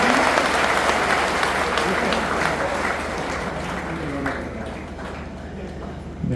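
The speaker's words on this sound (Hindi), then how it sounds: "आपको गीत अच्छा लगा हो तो एक बार तालियां बजा के मुझे बता दीजिए।" At a live Hindi poetry and song event, a crowd breaks into applause after a devotional song, loud at first and then thinning over a few seconds as someone speaks over it.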